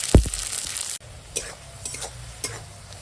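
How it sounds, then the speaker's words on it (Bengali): Onions and green chilies frying in hot oil with a bay leaf, a steady close sizzle with stirring scrapes, after a loud clatter at the start. "এখন দিয়ে দেবো পেঁয়াজ পেঁয়াজ কাঁচা লঙ্কা দিয়ে একসঙ্গে ভেজে নেব"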